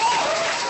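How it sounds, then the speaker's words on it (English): A studio audience applauds in a brief, dense burst of clapping. The sound is steady and fairly loud throughout. "The crowd goes wild."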